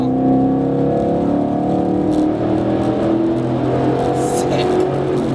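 A 2011–2014 Ford Mustang GT V8 fitted with a Borla exhaust rumbles through a tunnel, a loud, close, booming drone rising in pitch as it accelerates, with echoing reverberation.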